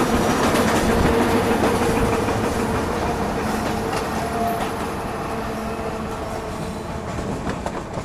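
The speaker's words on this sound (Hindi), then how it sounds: "मुझे नहीं पता कि ये कौन सी ट्रेन थी" A train on Indian Railways passes at night during a Katra to Haridwar journey, a loud, continuous rumble with rhythmic clattering wheels that slowly eases off.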